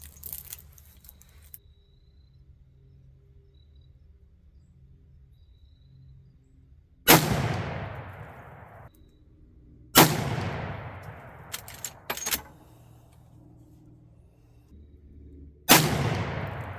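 A 35 Remington rifle fires loads made with Varget powder at a range. Three sharp, loud reports come several seconds apart, each with a long fading echo, separated by quiet stretches and a few faint clicks.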